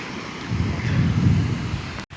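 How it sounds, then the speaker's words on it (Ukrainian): Ocean surf on a shore in Peru, a continuous rushing wash of waves swelling in the middle, mixed with wind buffeting the microphone and a brief dropout near the end. "Ми стоїмо на берегу океану."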